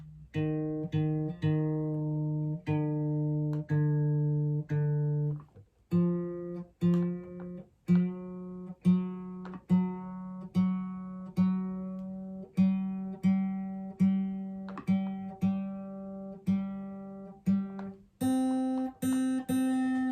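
Guitar strings plucked one at a time while being tuned, each note ringing out and decaying before the next pluck in a steady, unhurried rhythm, close and clear with no talking.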